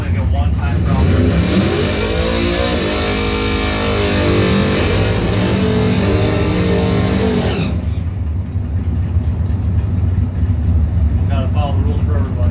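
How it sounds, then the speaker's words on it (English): A Camaro drag car backs out of the lane at a Mopar drag race, its engine rumbling loud and close at a low steady idle, then quieting abruptly partway through as the background hum continues; voices are heard over it. "Sorry, we got to back this Camaro out."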